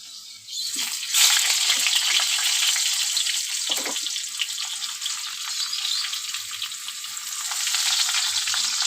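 Potatoes frying in oil in a pan for a boal fish curry give a loud, steady sizzle, with occasional stirring scrapes and no talk.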